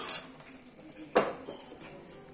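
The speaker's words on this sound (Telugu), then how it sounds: "ఈ 2 వేసుకొని ఒకసారి అంతా కూరనంతా బాగా కలుపుకుందాం." A spoon stirring bottle gourd curry in a pan: soft scraping and faint sizzling, with one sharp metallic clink of utensil on pan near the middle.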